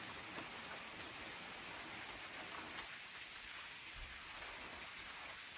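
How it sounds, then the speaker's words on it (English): Steady rain falls outside a tiny home, a soft continuous patter and hiss on surfaces that stays even throughout, with no voices. "you gotta love the sound of the rain"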